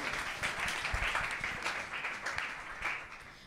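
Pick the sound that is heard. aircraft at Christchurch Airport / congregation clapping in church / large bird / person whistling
congregation clapping in church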